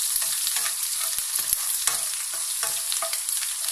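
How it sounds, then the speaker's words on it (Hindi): Garlic sizzles steadily in hot oil in a pan for Rajasthani dal, with a bright continuous crackle and scraping stirs of a spoon close by. "अब ये लहसुन डाल देंगे, तो हल्का सा फ्राई करेंगे।"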